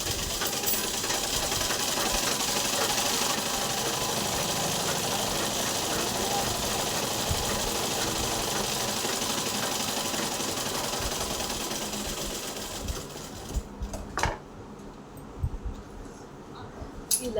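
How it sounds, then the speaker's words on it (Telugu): Sewing machine stitching the sleeve joint of a princess boat-neck blouse, joining lining piece to blouse cloth, running as a steady continuous whir for most of the stretch before stopping near the end, with a few handling knocks after. "ఇలాగే సెకండ్ హ్యాండ్ కూడా ఇలాగే స్టిచ్ చేసేసుకోవాలి. స్టిచ్ వేసేసుకొని జాయింట్ వేసేసుకున్నాం."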